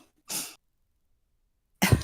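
Two short nasal sniffs from a congested nose, one close and brief, then a second, harsher one after a long silence.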